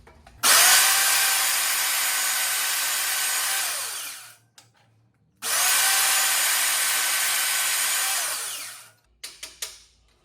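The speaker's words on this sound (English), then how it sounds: "I'm gonna cut the bracket." A power tool cuts through a metal bracket while a catch can is installed on a 2018 Ford F150 3.5 EcoBoost, two long, loud, steady whining bursts separated by a short pause, ending with a few brief blips.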